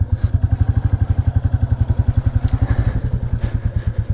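A 350 motorcycle idles close by with an even, rapid thumping pulse, loud and steady throughout, with a few light clicks and knocks over the top.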